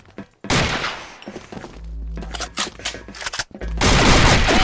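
Punchy gunshots in a shooter game, several sharp thumping bursts with a rapid-fire cluster mid-clip and a loud sustained volley at the end, over game ambience.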